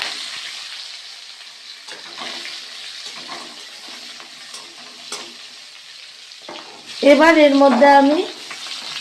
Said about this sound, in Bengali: জিরে, রসুন, কাঁচা লঙ্কা, গোটা রসুন, জিরে আর কাঁচা লঙ্কা ফোড়ন দিয়ে দিয়েছি।